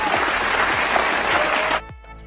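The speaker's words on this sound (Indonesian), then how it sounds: "Tepuk tangan anak-anak." Children clap together for their teacher in an Islamic religious lesson, a loud, dense burst of applause that runs steadily and then cuts off abruptly, leaving near silence.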